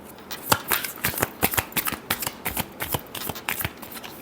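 Tarot cards are shuffled by hand in a steady, close riffle of rapid papery flicks and slaps lasting several seconds.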